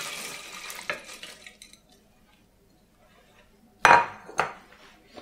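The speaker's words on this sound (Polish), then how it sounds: "namoczoną mieszankę przekładamy do garnka" Soaked seed mix for parrots is tipped into a cooking pot, giving wet scraping and clinking of a spoon against the pot, one early clatter, a pause, then a louder burst of clinks and rustle.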